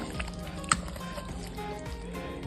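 Chicken for mandi is mixed by hand with masala and food colour, giving soft, wet squishing and light slapping sounds close up, with a sharp click partway through.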